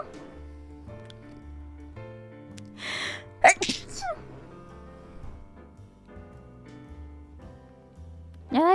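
A single sharp sneeze bursts out close to the microphone, followed by a brief sniff, over soft, steady background music.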